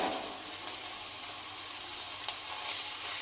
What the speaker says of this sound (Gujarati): હળદરને આપણે આની અંદર મિક્સ કરી સારી એવી સાતરી લઈશું